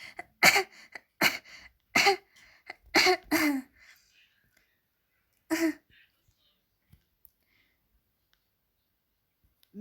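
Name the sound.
cough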